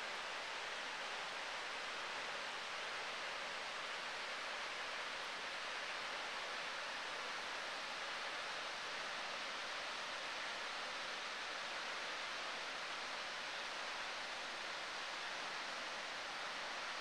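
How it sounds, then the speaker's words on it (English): A small icy waterfall at Devil's Punch Bowl gives a constant, even hiss of rushing water that holds at the same level throughout, with no voices. "down into the little icy waterfall here."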